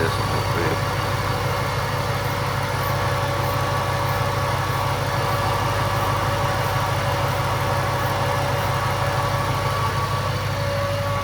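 A Ford Shelby GT500 engine idles steadily while warming up, a constant low rumble with a faint whine that stays even and unbroken throughout.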